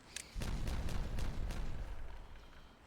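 Explosives detonate in the beaver colony-building game Timberborn as a rapid string of booming blasts, one after another for a couple of seconds, then a rumbling tail fading out; there is no talk.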